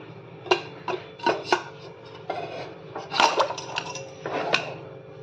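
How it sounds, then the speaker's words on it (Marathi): Cookware clanks and clinks as fermented batter is set in a pressure cooker in a home kitchen, with several sharp metallic knocks and scrapes spaced irregularly, close and fairly loud. "आता हे कुकरला लावून घेते मी."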